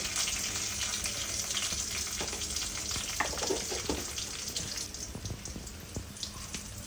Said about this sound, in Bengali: এখন আমরা একটু কষিয়ে নেব